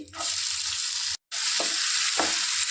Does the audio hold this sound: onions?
yes